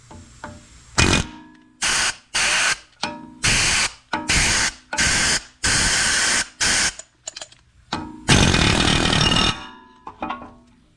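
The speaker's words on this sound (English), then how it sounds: "take your air hammer and go all the way around the perimeter of it" An air hammer on a corroded brake rotor of a 2014 VW Tiguan R-Line fires in repeated loud bursts of about half a second each, with short pauses between, ending in a longer burst and a few short taps.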